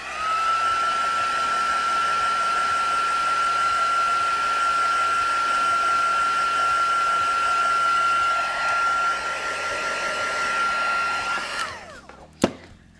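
A heat tool blows with a loud steady whine while drying a heat-set card craft project, running continuously before cutting off with a click near the end.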